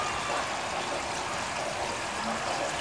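Water steadily pouring off tubifex worms, a continuous close rushing splash that keeps an even level throughout, with no voices.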